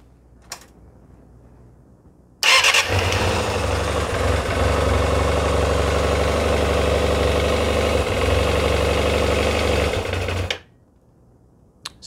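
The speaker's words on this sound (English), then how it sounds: "So we'll start it up." A motorcycle with twin carburettors, cold and on choke, starts up and settles into a steady idle for about eight seconds before shutting off. The idle is loud, close and unbroken, with faint clicks before and after it.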